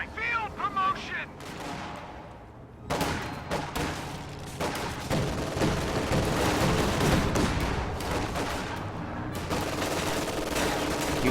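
Heavy gunfire rages through a video game battle around a church capture point, with rapid bursts, sustained fusillades and distant artillery-like booms filling the scene continuously, while voices shout orders over the combat.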